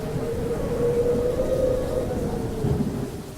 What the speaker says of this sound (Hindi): देखते ही देखते तेज बारिश शुरू हो जाती है।